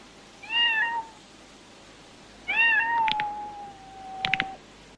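A cat in a scene from the film Way of the Dragon meows twice, clear drawn-out cries with a pause between them, close and without talk.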